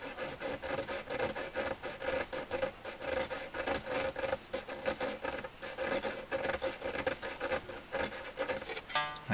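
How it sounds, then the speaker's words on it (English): Filing a brass bass reed on a Hohner Carmen 24 bass accordion to flatten its pitch: repeated close, rhythmic rasping strokes, short pauses between them, quiet and alone. "so I can just support that reed this time and just do a little bit of filing"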